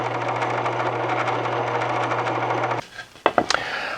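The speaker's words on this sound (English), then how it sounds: "I've got a 1/4 inch Forstner bit in here." A drill with a 1/4-inch Forstner bit drones with a steady motor hum while making a gauge for measuring bowl depth. The drone cuts off abruptly, followed by a few sharp clicks and knocks nearby.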